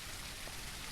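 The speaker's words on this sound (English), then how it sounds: "It's raining" Rain falling in the SurounDead zombie video game, a dense even hiss of drops on surfaces, steady and fairly quiet throughout with no voices.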